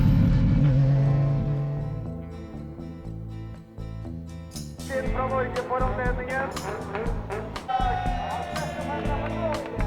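Drift cars circle a smoke-filled track at the Gatebil festival in Sweden, tyres burning, engines roaring and revving loudly and continuously with shifting pitch, while a crowd murmurs faintly underneath.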